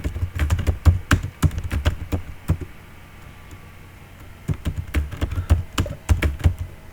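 Fingers type text into an Excel data-entry sheet on a computer keyboard, bursts of rapid, close key clicks separated by a short quiet pause, then another quick run of keystrokes, with no talk.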